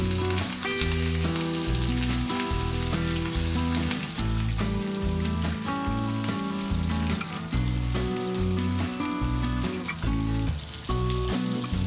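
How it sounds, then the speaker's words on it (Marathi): Kingfish (surmai) slices fry in a pan over a medium gas flame, Agri-Koli style, giving a loud, steady sizzle that runs without a break, with no talking. "मीडियम गॅसवर आपल्याला सुरमईच्या तुकड्या एका बाजूने पाच मिनिटसाठी फ्राय करून घ्यायच्या आहेत"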